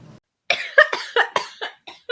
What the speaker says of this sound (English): coughing and choking.